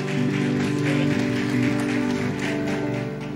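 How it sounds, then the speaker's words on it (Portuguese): A church congregation claps in a broad, steady wash over live worship music with sustained tones, the applause filling the room throughout. "Dê uma grande salva de palmas."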